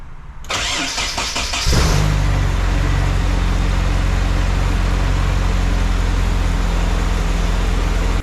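Nissan 240SX engine cranks briefly, catches and settles into a steady, loud idle close by, with no talk over it.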